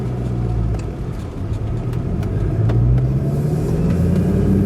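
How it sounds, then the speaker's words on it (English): A 2006 Ford GT's supercharged engine heard from inside the car on a slow drive, a loud steady rumble with a rising whine laid over it and no talking. "you can hear that supercharger behind us"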